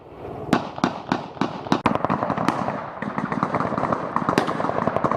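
Gunfire during a firefight with an enemy force, rendered as a rapid series of loud, sharp cracks and bangs, some isolated and some in quick bursts, echoing over a continuous rumbling background.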